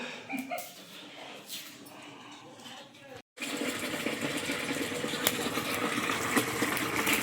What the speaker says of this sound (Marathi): सकाळी पाणी आलेलं 6:30 आणि आता पुन्हा आलं आहे 12:30च्या दरम्यान. तर ते आलं आहे तर ते जरा भरून ठेवतो.